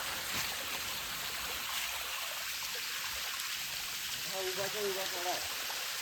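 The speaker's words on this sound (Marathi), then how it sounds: "हे ओव्हरफ्लो झालं पाणी" Flowing water rushes steadily from a mountain spring overflowing nearby beside a steep cliff, a broad continuous wash, with a voice speaking briefly toward the end.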